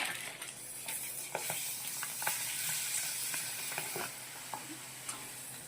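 Rice papad strips frying in hot oil, a continuous bright crackling sizzle punctuated by frequent small ticks and taps, fairly quiet and close, with no voices.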